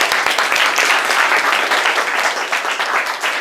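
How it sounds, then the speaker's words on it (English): Audience at a real estate business seminar claps loudly and continuously, a dense close wash of many hands that holds for several seconds with no speech over it. "Clap it up."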